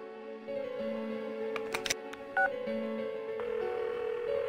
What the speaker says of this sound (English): Give her another call.